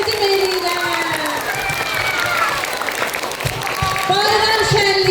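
Children at a Novruz holiday celebration clap together, a dense, sustained round of applause with excited voices and shouts mixed in.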